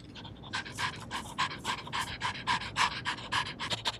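A dog pants heavily and rapidly, a steady rhythm of quick, close breaths running throughout with no talking over it.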